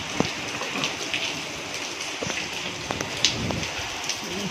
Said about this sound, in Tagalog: unang ulan ng Mayo. Bagyo agad.